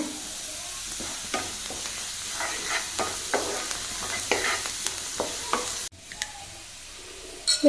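Ingredients for parippu payasam roasting in a kadai: steady low sizzle with repeated scraping stirs of a spoon against the pan, close and moderately loud, a brief pause near the end before stirring resumes.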